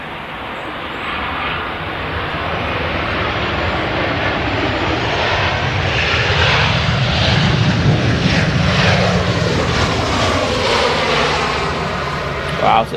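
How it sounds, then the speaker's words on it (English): A Ryanair Boeing 737 airliner arriving at Manchester Airport, a loud jet roar building and sweeping past with a shifting whine, steady for most of the span, while people talk underneath. "This is Ryanair coming in from Paphos."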